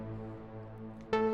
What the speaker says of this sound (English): Just an empty hall would sound like this.